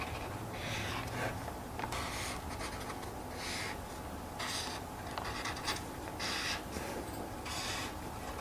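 Pen scratching a mantra onto paper, a steady run of close, dry scribbling strokes with short pauses between word shapes, heard alone without talk.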